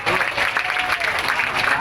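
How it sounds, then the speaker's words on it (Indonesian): Applause for a speaker at a gathering, a dense, steady clapping from many hands that holds for a couple of seconds with crowd noise mixed in. "Tepuk tangan untuk beliau."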